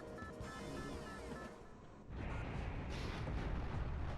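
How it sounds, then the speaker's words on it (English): A loud explosion-like blast in the Metroid Prime video game, a broad rumbling burst that swells in at mid-clip and keeps roaring over a steady game background. "we got downgraded by a single explosion"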